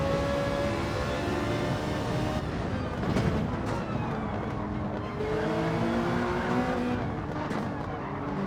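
A Ferrari and a Honda NSX race car roar through a Gran Turismo 7 league race, with loud engines rising and falling as they shift, squealing tyres under braking, and commentary voices over the continuous noise.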